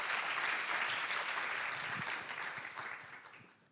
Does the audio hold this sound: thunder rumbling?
no